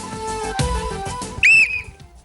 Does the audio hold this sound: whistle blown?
yes